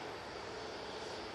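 A TUI airliner arriving at Manchester Airport, its broad steady engine roar filling the air at a constant level throughout, with no talk over it.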